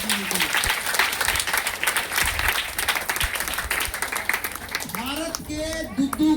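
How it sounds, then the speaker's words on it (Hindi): Loud audience applause at a talk or meeting in Patna, honoring a doctor, dense clapping sustained for several seconds, with a voice and shouts breaking in near the end. "एक जोरदार ताली होना चाहिए डॉक्टर साहब के लिए।"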